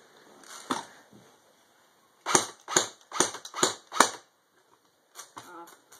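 JG R36C airsoft rifle fired on semi-auto outdoors: a few sharp cracks first, then a quick series of about five evenly spaced snapping shots, then two fainter pops, with no talk.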